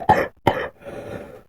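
A person coughs twice in sharp, close bursts, followed by a softer trailing breathy sound.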